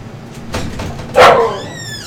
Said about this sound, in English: Excuse me, my dog's gonna make some noise.